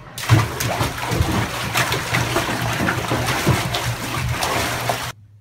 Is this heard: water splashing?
yes